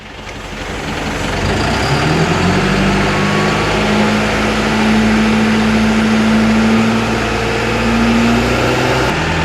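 An Eicher Pro 6031 dumper truck's diesel engine runs steadily and loud up close, a deep continuous rumble that swells early and holds with a faint rising whine, then cuts off at the end.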